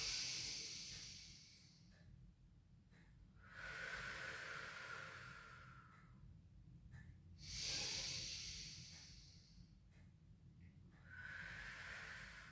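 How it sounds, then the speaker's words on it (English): Deep breaths drawn in and out during a pilates rehab stretch, close and fairly quiet, with slow hissy inhales and exhales repeating roughly every three to four seconds over a low background hum. "Big deep breaths in and out."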